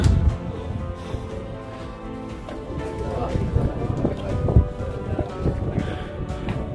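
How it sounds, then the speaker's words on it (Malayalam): Strong wind gusts buffet the microphone at Lohgad hill fort near Lonavala, a steady low rumble with swelling bursts throughout, while people talk nearby. "നല്ല കാറ്റുണ്ട്."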